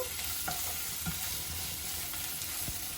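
Ivy gourd fry with turmeric is stirred in a pan, a continuous close sizzle broken by light scraping clicks of the spoon, with no one talking.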